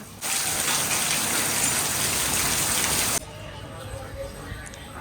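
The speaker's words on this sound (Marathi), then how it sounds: "पाऊस पडतोय" Rain falls steadily as a loud, dense hiss for about three seconds, then drops away abruptly to a quieter background with faint sounds.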